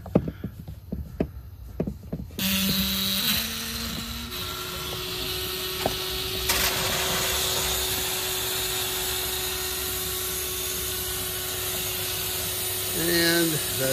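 Compressed air forced through an RV's sprayer water lines, a loud continuous hissing rush that starts suddenly after a few knocks and handling sounds and holds steady nearly to the end, with a tonal whine and occasional clunks.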